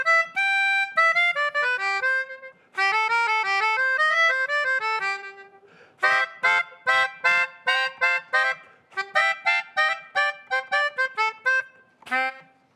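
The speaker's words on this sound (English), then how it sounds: "Some people call it a melodica. But it sounds like this." A melodica, a keyboard-blown harmonica, plays a lively melody up close, first in sustained phrases and then in short staccato bursts of chords, with no one talking.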